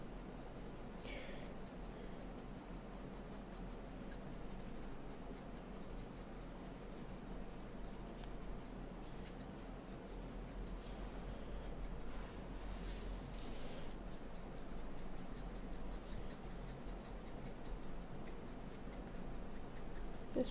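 A brush-nib pen, worn very soft, coloring over Posca paint in a cat coloring book, giving a continuous faint scratching and rubbing on paper with a steady low background hum and no talking.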